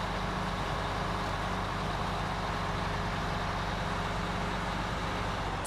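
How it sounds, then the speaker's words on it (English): A truck engine in the video game Snowrunner drones in a constant low rumble for several seconds, steady and unbroken, with no talking. "Motor sound."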